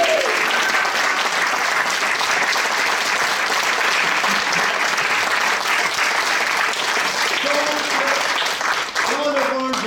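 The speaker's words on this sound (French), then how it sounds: "Allez, on applaudit." Theatre audience applauding after an amateur French stage play, loud and sustained clapping that fills the whole stretch, with voices faintly mixed in toward the end.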